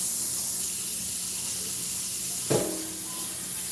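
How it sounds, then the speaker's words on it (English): Potatoes rinsed under running tap water, a continuous hissing stream close by with one short knock or splash partway through and no talk. "Swing you around real quick while I wash these potatoes."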